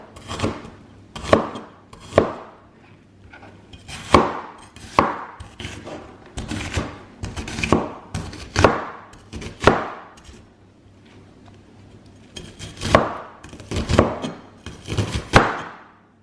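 Onion being chopped on a board with a knife, a series of sharp close thuds in uneven bursts with short pauses, loud and alone with no talk.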